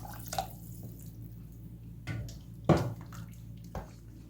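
Vinegar marinade for fish is poured into a dish, giving a few soft splashes and liquid gurgles at irregular moments, close by over a quiet room.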